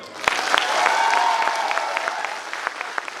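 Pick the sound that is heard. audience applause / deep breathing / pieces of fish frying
audience applause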